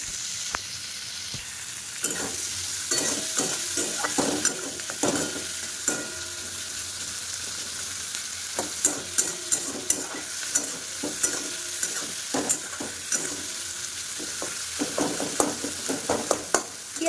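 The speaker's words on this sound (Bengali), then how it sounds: "একটু হালকা ভাজা ভাজা করে নেবো" Food stirred and lightly fried in a pan on a home gas stove, with a steady quiet sizzle broken by repeated scraping and clinking strokes of the spoon against the pan.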